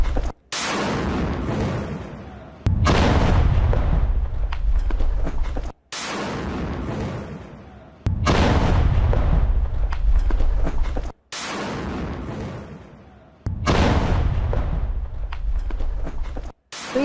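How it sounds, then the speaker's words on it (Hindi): Bombs from air strikes on Gaza detonate in a series of about six loud, booming blasts. Each heavy roar hangs and decays over a couple of seconds before the next explosion cuts in abruptly. "गाजा में किस तरीके से बम बरसाए गए हैं ये तस्वीरें आप देखिए"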